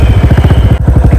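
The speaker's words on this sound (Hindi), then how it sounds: "एग्जॉस्ट का साउंड भी काफ़ी अच्छा आ रहा है विदाउट एग्जॉस्ट के" A motorcycle engine runs with its exhaust system removed, producing a loud, close, rapid thumping putter with a brief dip partway through.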